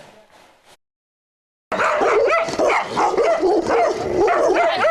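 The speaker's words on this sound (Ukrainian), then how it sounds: "Ось так зустріли нашу знімальну групу собаки з Київщини." Several dogs in Kyiv region bark loudly and excitedly close by, overlapping yaps and yips after a brief silence.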